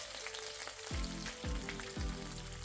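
Meatballs sizzling and frying in oil in a big pot, a steady crackling hiss with three soft low thumps as pieces settle or shift, fairly quiet and without talk.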